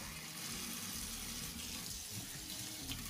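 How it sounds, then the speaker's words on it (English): A plate is washed under a running tap at a kitchen sink, the water pouring in a steady, faint wash that stays continuous without talking. "You're washing your plate?"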